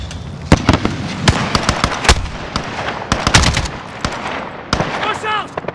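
Gunfire and explosions crackle in a Call of Duty Modern Warfare battle, loud and close with sharp bursts and booms in quick succession, including a rocket launch, and a voice briefly calls out near the end.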